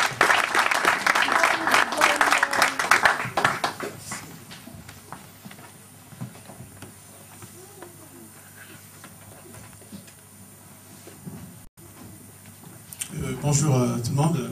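A church congregation applauds loudly at first, the clapping fading into murmuring crowd noise before louder clapping returns at the end.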